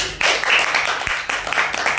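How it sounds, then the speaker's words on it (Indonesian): A classroom group of students clapping for a classmate during a group guidance discussion session, dense steady hand claps filling the whole stretch at close range, with a faint voice underneath. "tepuk tangan untuk temennya"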